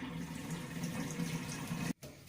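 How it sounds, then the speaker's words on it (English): Water from rinsing handspun yarn, gently squeezed out by hand and splashing steadily into a sink or basin, broad and wet, continuous for about two seconds before cutting off abruptly. "rinse and gently squeeze the water out of it."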